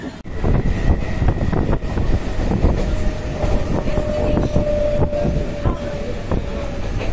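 A train rumbles steadily along the rails with rattling clatter and a faint sustained whine, loud and close, as if heard from onboard.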